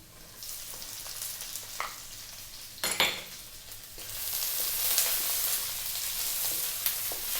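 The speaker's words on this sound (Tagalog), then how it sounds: "Magigisa na po tayo. Garlic. I-add ko na rin yung ating onion." Garlic and onion hitting hot oil in a pan, a soft crackle that swells into a steady loud sizzle, with a few utensil scrapes and taps against the pan along the way.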